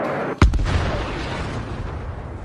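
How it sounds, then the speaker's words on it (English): A single powerful artillery blast slams down near Ukrainian trenches, a sharp loud boom whose deep low rumble rolls on and slowly decays for a couple of seconds, with no voices. "Just look at how this powerful artillery unit destroys Ukrainian trenches"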